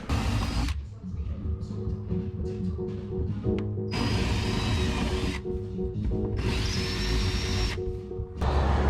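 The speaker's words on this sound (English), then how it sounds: "Just bolting the seat on with some stainless bolts" Stainless bolts being fastened to secure a seat onto a racing sim chassis, with bursts of power-tool whirring alternating with short quieter gaps, close up, over several seconds.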